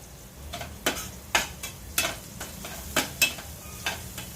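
Onion sautéing in a pan for a fenugreek and potato dish, with a steady soft sizzle and a series of sharp scraping stirs of the spatula at irregular intervals.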